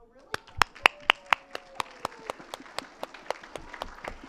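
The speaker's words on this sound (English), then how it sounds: "Let's applaud them." At a residents' town hall meeting, a small group applauds retired school principals. A handful of sharp, distinct claps fall in a quick, fairly regular rhythm and fade out over about four seconds, with a brief voice near the start.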